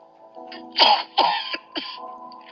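A string of harsh coughs from a man eating, three or four close together, over a faint steady hum.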